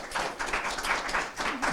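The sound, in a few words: applause, clapping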